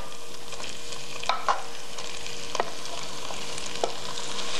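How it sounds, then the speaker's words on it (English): Crispy broccoli sautéed in olive oil over high heat sizzles quietly in a pan, steady hiss broken by a few sharp clinks and scrapes of stirring, with no voices. "this is the crispy broccoli which I'm going to add to the pan"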